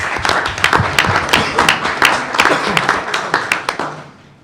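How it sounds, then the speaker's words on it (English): Applause from attendees at a regular board meeting: a burst of dense, irregular hand clapping that stays lively for several seconds, then thins out and fades at the end. "Let's give them another round of applause."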